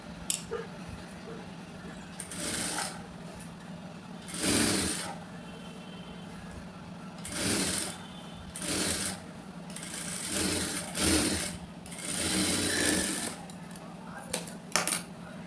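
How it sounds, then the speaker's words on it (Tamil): A sewing machine stitches folded saree fabric in short, fast bursts of whirring separated by pauses, close and clear over a faint steady hum. "இதை நான் அப்படியே மடித்து இந்த ஓரத்தில் இப்போ தையல் போட போகிறேன்"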